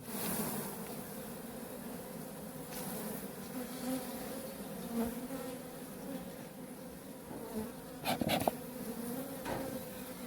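Honeybees buzz steadily around an open hive at a forest apiary on a cool, breezy day, a dense continuous drone close by with brief louder passes of individual bees flying near.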